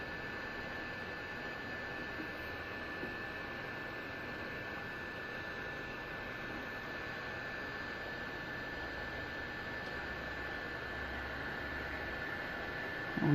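A hot air rework station blows steadily in circles around the edge of an SMD chip on a PCB, a constant airy hiss with a faint hum, close and even throughout with no talking.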